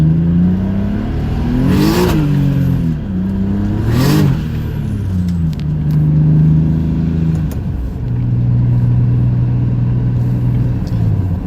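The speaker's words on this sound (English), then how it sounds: "how much more power the turbo added on these cars" Turbocharged BMW E36 accelerating hard, its engine note climbing through rising revs with brief dips at gear changes, loud and close from inside the car, followed by a steady high cruise.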